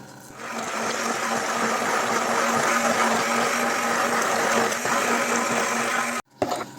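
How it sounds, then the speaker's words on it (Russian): Immersion blender whirring steadily through a curd cream with peach yogurt, a continuous motor drone with a low hum that runs for about six seconds, then cuts off with a brief clatter. "И теперь погруженным блендером доводим крем до гладкости."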